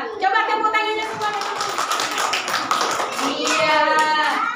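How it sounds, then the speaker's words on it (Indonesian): Children in a classroom clap their hands together in a group while voices talk and call out over the clapping throughout. "Coba tepuk tangannya semua."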